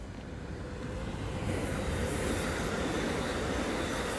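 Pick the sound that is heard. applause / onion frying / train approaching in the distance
train approaching in the distance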